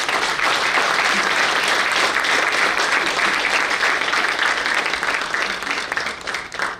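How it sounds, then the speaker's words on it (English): An audience at a university convocation ceremony applauds the graduating degree holders, a dense, sustained round of clapping that stays loud for several seconds before beginning to thin toward the end. "Let us once again give a round of applause to all the degree holders."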